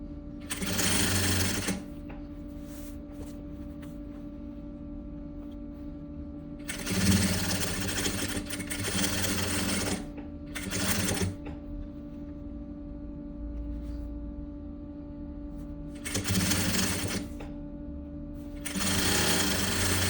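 A sewing machine stitches a boy's vest in four loud, sustained bursts separated by short pauses, its steady motor whir running throughout with no talking.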